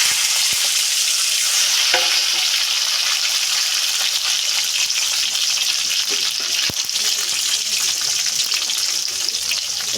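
Chopped tomato hitting hot oil tempered with five-spice, bay leaf and dried chili, a loud, constant hissing sizzle with a few sharp clicks of the spoon against the pan.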